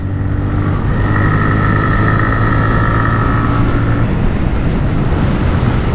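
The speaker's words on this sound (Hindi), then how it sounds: "Like I can push this motorcycle around a corner in so much confidence." A TVS Raider 125 motorcycle leans through a corner, a loud steady engine drone with a held hum under heavy rushing wind noise, unbroken for six seconds with no talk.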